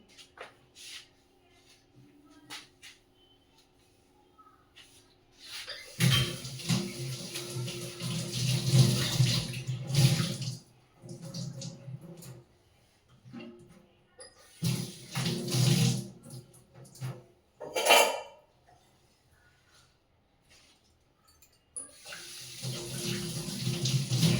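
A potted houseplant being washed under running water indoors, with tap water gushing and splashing in several bursts separated by quieter pauses and soft handling noises.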